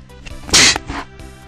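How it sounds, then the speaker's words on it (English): A single sharp, loud sneeze bursts out mid-clip against a quiet, low background hum, with a softer exhale just after. "Ah, I just had a sneeze."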